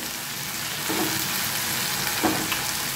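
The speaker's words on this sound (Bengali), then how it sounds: "এগুলো দিয়ে এখন একটু নেড়ে নেব।" Raw jackfruit chili pieces coated with chili sauce sizzle steadily in a pan, with two soft scraping stirs cutting through the continuous frying hiss.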